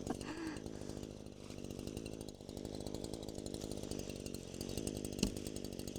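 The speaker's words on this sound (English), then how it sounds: "Now that my boys have cut with their saws for a little bit" A STIHL chainsaw runs steadily at a distance while cutting, a continuous buzzing engine drone with a slight rise in pitch midway and a brief knock near the end, fairly faint overall.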